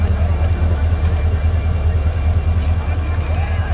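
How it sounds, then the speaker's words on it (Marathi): A train pulls into a newly built station at Vighnawadi in Beed during a trial run, its deep diesel engine rumble loud and steady close by, with faint crowd and ambient noise around it. "खूप जवळ आलेली बघा मित्रांनो आपल्या ही बीडच्या रेल्वे."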